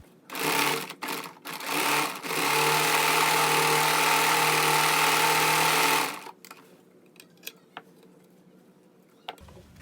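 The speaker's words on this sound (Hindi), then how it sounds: "अब हम इलास्टिक को इस तरह एक के ऊपर एक रखकर इसमें इसी तरह से डबल सिलाई लगाकर इसे पक्का कर लेंगे।" A sewing machine double-stitches elastic onto trousers, with a few short bursts and then a sustained run of several seconds before stopping, leaving faint handling sounds.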